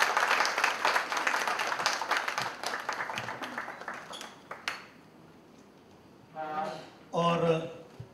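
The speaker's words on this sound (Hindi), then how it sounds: "मैं चाहूंगा कि तालियां जरा जोरदार तरीके से होनी चाहिए" A small crowd claps for several seconds at a book launch, the applause thinning out and stopping, followed by someone speaking.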